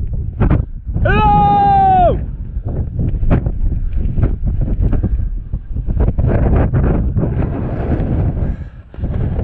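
Gusty wind buffets the microphone on the exposed Crib Goch mountain ridge: a loud, continuous low roar with uneven surges, plus a brief high tonal whine early on.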